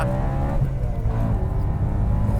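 Rare supercharged BMW M3 V8 engine rumbling loud and close, a dense steady throb with slight swells in revs and no voices over it.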